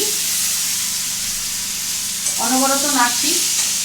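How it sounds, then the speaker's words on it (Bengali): A drumstick, potato and bean curry sizzles in a pan while being stirred continuously, a close steady frying hiss with a brief voice speaking near the end. "সমানে অনবরত নাড়ছি"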